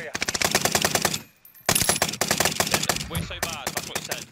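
Rapid automatic gunfire from a Call of Duty Warzone match crackles in dense, loud bursts, with a brief pause before another sustained volley and scattered shots.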